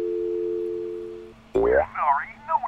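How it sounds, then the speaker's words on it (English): A cartoon telephone rings as a steady electronic tone that cuts off, then a springy boing-like effect follows and voices join in. "It's the phone."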